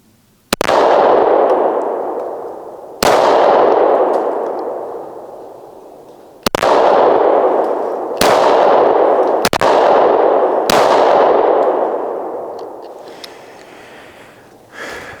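An M&P Shield 9mm pistol fires six loud shots outdoors, each a sharp crack followed by a long echoing decay, spaced unevenly over several seconds with two shots close together.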